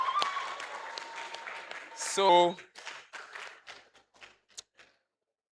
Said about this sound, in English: You guys should clap for us now.